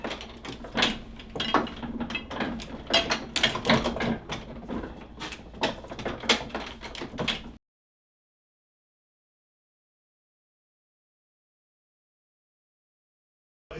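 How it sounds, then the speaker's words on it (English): Wooden model of Gutenberg's printing press in a museum print shop working with busy clacking, creaking and knocking mechanical sounds for several seconds, then abrupt silence. "Here we have a model of Mr. Gutenberg's printing press."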